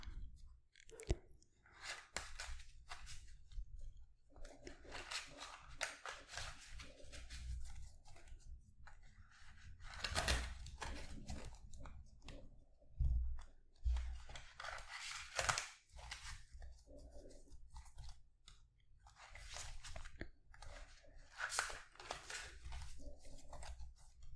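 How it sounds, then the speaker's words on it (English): A large deck of tarot cards being shuffled up close in a quiet room, soft riffling, flicking and tapping in irregular bursts with brief pauses between them. "I'm not used to shuffling such big decks of cards, of course."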